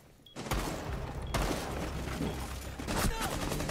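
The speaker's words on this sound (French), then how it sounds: "je me fais tirer dessus comme une merde" Sustained rapid gunfire in Rainbow Six Siege, a dense, loud barrage of shots running almost continuously after a brief quiet start, with a second burst swelling near the end.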